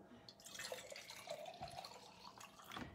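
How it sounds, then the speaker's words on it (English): Vinegar poured into a mason jar for cleaning a dishwasher, a short trickling, splashing stream of liquid, fairly quiet and close, with no talking over it. "I'm gonna pour the vinegar into the mason jar."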